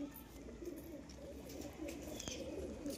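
A female betting pigeon coos softly in low repeated hoots, fairly close but faint against a quiet room background, with a brief click near the end.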